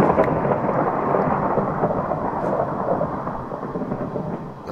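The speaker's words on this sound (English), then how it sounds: "Must be a thunderstorm out there." A thunderstorm rumbles in a survival video game, a long loud roll of thunder over falling rain that slowly fades across several seconds, with no talking.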